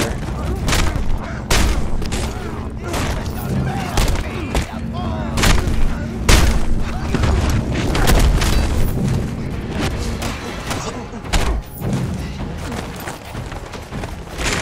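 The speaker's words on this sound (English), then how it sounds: "I don't know how to do this shotgun finisher." Shotgun blasts and heavy impacts from combat in the Mad Max video game, with repeated sharp booms spread across a busy, dense fight soundscape of thuds and clatter.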